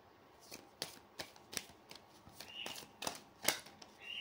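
Tarot cards being shuffled and drawn, a series of crisp separate flicks and snaps at uneven intervals, close and fairly quiet over a hushed room.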